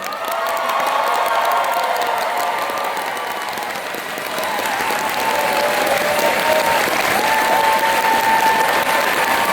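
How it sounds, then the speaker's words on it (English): A live audience at a Dragon Con 2025 Dungeons & Dragons panel breaks into loud, sustained applause, clapping mixed with cheers and whoops from a large crowd. "I shall ask for a round of applause for our player character"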